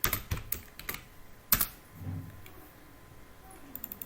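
Keys pressed on a computer keyboard while entering figures into an Excel spreadsheet, a few sharp clacks and a louder tap early on, then sparse light ticks, close and without talk.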